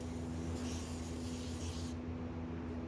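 A steady hiss of aerosol smoke tester spray aimed at a smoke detector in an FM200 fire alarm system runs continuously for about two seconds, close by, then cuts off leaving a low background hum.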